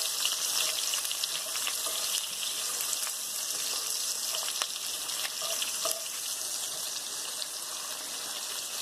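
Onions fry and simmer in a pot for beef stew, a steady soft sizzle with faint bubbling and occasional stirring clicks.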